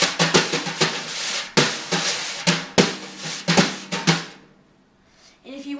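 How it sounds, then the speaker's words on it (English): Wire drum brushes play a jazz-style pattern on a drum, a busy run of soft swishing strokes and taps in an uneven swing rhythm, close and unaccompanied, fading out before one last stroke. "Rubbing is a jazz sort of thing. In lots of jazz songs, you'll hear a person with brushes going like this."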